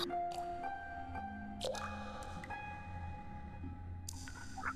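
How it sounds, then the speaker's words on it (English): Water drips as a sound effect in a fantasy dungeon setting, a few faint, sparse plinks over a low, murky ambient bed. "Find that drip."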